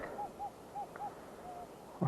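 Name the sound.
metal detector signal tone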